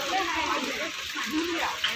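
Natural water runs steadily for washing feet at the Marleshwar temple, a continuous close splashing flow with voices talking over it.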